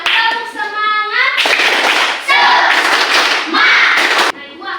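A classroom of children performs a rhythmic spirit clap chant together, bursts of group clapping mixed with loud chanted voices, close and lively, with a teacher's voice at the start.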